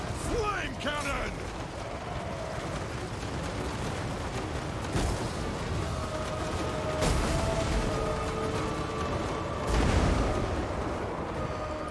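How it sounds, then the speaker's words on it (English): A flame cannon fires in a Total War: Warhammer battle amid steady rumbling booms and explosions, with a few sharper blasts standing out from the din while someone talks over the fighting. "Flame cannon!"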